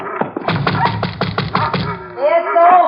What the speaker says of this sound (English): What are you knocking for?